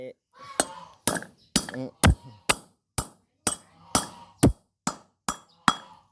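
A heavy three-kilo hammer drives a front wheel bearing into an Isuzu hub, striking about a dozen sharp metallic blows at a steady, roughly half-second rhythm, close and loud with ringing decay between hits.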